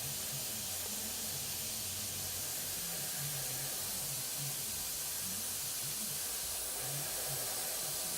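An airbrush sprays paint onto the panels of a Tamiya 1/32 F-16 model, giving a steady, close, unbroken hiss that runs the whole time with no talking.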